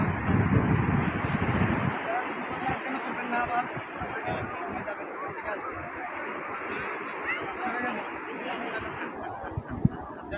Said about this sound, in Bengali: আর সমুদ্রের আওয়াজটা সত্যি অনেক ভালো, মানে পানির আওয়াজ আবার খুবই ভয়ঙ্কর